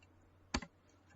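A computer keyboard gives one quick pair of sharp keystroke clicks, close and brief, against a quiet room.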